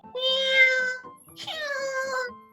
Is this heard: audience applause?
no